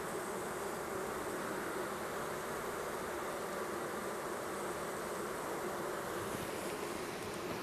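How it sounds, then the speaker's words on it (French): A steady, dense buzz of many honeybees swarming close by around a hive box during a hive split, continuous and unchanging throughout with no voices. "on voit que les abeilles sont en train vraiment de venir sur la boîte"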